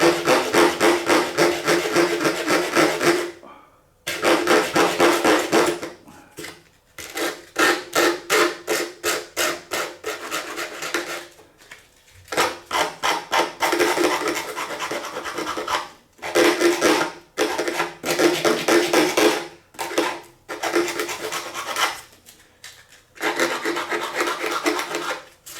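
Rough sanding of a Warmoth baritone guitar body with 80 grit sandpaper: loud, close, rasping strokes in rhythmic bursts with brief pauses between passes, no talking.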